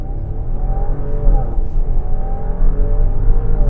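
Porsche Cayenne Platinum Edition launching hard from a standstill in performance-start mode, the engine a loud, close, deep roar climbing through rising revs with a gear shift midway, heard from inside the cabin.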